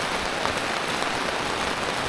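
The year's heaviest downpour hammers an empty street, a dense, steady roar of rain on the surface that stays loud and unbroken throughout.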